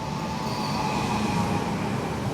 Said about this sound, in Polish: I wjeżdża pociąg osobowy S1 z Częstochowy lub Dom Górniczej Ząbkowice do Górnicy.